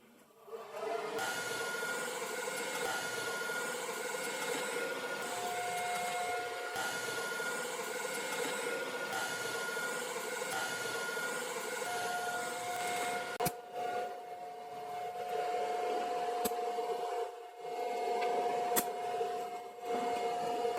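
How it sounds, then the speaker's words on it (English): TIG brazing tacks on a bicycle frame with silicon bronze filler rod, a steady close electrical buzz and hiss with a faint whine, broken by brief pauses and sharp clicks as tacks start and stop. "so this is called TIG brazing"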